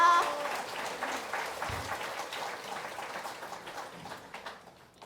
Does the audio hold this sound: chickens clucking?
no